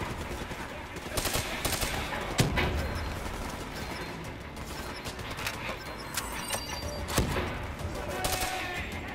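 Gunfire in Call of Duty: Black Ops III, with rapid automatic bursts and sharp single shots crackling across the stretch, a few louder cracks standing out above a busy battle din.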